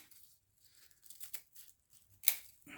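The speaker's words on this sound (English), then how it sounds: "I'm going to get my scissors and cut it about 2 times" Scissors cut through folded paper for a craft project: a few quiet, close snips with light paper crinkling, ending in one sharper cut and rustle.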